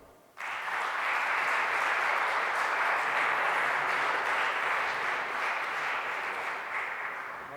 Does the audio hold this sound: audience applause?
yes